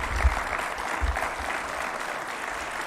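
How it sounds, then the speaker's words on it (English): Audience applause at a formal launch event for a national plan, steady crowd clapping sustained throughout with a few louder bumps early on, no talk over it. "A round of applause for His Excellency one more time."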